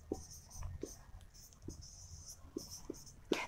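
A pen scratches across paper in short, faint strokes as a math problem's given details are written down, with soft speech close by.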